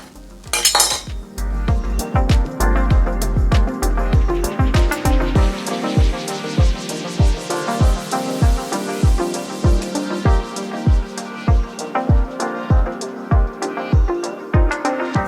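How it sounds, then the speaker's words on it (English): A knife cuts the core out of a cabbage on a cutting board while egg roll vegetables are prepped, giving steady, evenly spaced chopping knocks that ring close and loud for the whole stretch. "Next up, the all-important cabbage. Just kind of cut out the core."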